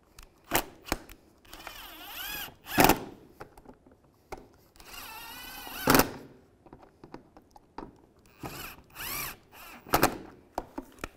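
A power tool drives bumper bracket bolts tight on a 2015-2020 Cadillac Escalade, several short whirring bursts separated by pauses and clicks, close up and with no talking.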